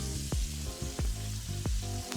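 Fresh garlic sizzles in a pan of rendered filet mignon fat, a steady close frying hiss broken by a few low stirring thumps.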